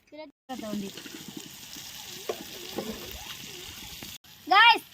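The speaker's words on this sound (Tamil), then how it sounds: "பிடிச்ச மீனை வறுத்துக்கிட்டு இருக்கோம்" Small freshly caught fish, netted with mosquito nets, fry in a pan. A continuous hissing sizzle runs for several seconds while voices talk over it, ending with a louder voice after a short break.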